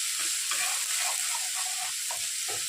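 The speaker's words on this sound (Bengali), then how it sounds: "এটা একটু ভাজা ভাজা হয়ে গেলে তারপরে কাঁচা লঙ্কাটা দেবো।" Chopped onion and garlic fry in a pan with a continuous bright sizzle, punctuated by soft scraping knocks as the mix is stirred, close and fairly loud.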